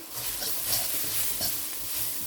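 Spices of turmeric, pepper and salt being stirred into a hot pan of chicken koththu, a steady scraping stir over soft continuous sizzling, close and moderately loud with no talk.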